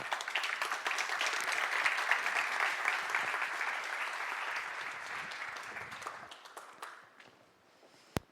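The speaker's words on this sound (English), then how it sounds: "If you could give him a warm hand of applause." Warm audience applause at a conference opening keynote as a speaker is called onstage, dense steady clapping that gradually thins and fades out near the end.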